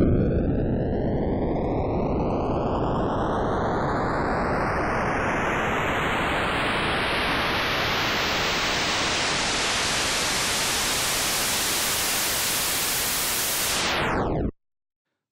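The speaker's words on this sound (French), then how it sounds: "On a ici un simple bruit blanc filtré de manière assez basique et qui n'a pas vraiment d'impact." Filtered white noise riser sweeping steadily upward in pitch as a pop and electronic music build effect, loud and continuous for about fourteen seconds before cutting off abruptly, with no voices.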